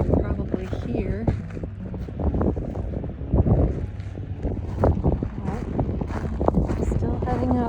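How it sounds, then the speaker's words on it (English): Strong wind on a mountain ridge at Craters of the Moon buffets the microphone with steady, heavy rumbling gusts, while a person speaks over it. "Very windy up here, as you can probably hear."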